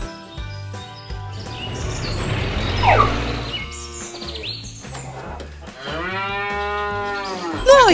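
A farm cow standing by an empty trough lets out a long, drawn-out moo near the end, preceded by a clattering toy-like rumble with birds chirping in the background.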